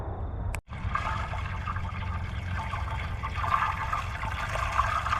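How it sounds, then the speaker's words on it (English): Fat from a bacon-wrapped meatloaf bubbling and simmering inside a Keith titanium rice cooker over a fuel burner, a continuous close, crackling, watery sizzle after a brief click, with no talk. "That definitely sounds like bubbling and simmering fat."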